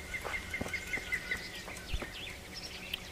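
Birds chirp and whistle in the medieval countryside of the video game Kingdom Come Deliverance, with a repeated bright call and scattered tweets over a soft airy background.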